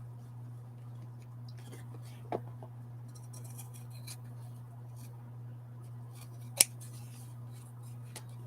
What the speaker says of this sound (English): let's trim those edges off